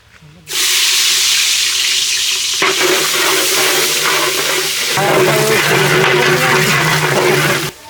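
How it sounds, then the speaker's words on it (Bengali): Rice frying in oil with cinnamon sticks and bay leaves for beef tehari, a loud steady sizzle and hiss that jumps in intensity as more goes into the pot, with stirring and scraping throughout and no talk. "দারচিনি তেজপাতা গাছের ফল চাউল দিয়ে দিলাম সুন্দর করে ভাজিয়ে নেবো"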